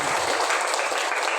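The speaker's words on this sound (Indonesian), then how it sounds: "tepuk tangan dulu yang meriah." Classroom applause from students during a teacher-led ice-breaking activity in a school science lesson, a steady, dense wash of clapping filling the short moment without pause.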